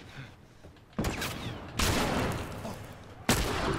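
Gunfire in The Last of Us, including shotgun blasts against an armored enemy: three loud, sudden bursts, each trailing a long, rumbling tail of echo and noise.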